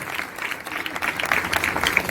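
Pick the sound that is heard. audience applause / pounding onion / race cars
audience applause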